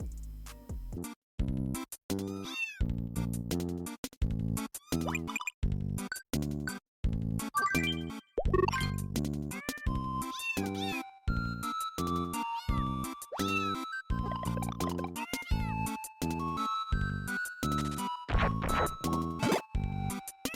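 Cartoonish cat meows and squeaky game sound effects from the platform video game Super Cat Tales 2, with rhythmic jingly music, a steady run of short chirpy bursts that stays loud throughout.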